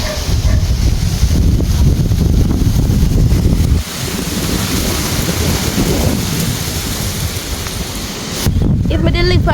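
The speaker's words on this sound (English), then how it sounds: "The breeze is so strong" Hurricane Melissa's strong winds roar loudly through trees in Jamaica, a dense, buffeting rush that batters the microphone, briefly eases, then surges again.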